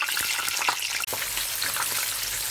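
Green peppers fry in hot oil at high temperature, a loud, steady crackling sizzle close by with small pops, heard alone without voices.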